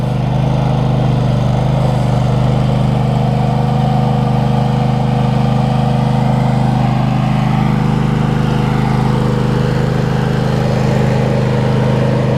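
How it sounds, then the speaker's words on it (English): A Husqvarna Z248F zero-turn lawn mower runs close by, its engine a loud, steady droning hum with a strong low tone that holds even throughout, with no voices over it. "You want to try mowing something?"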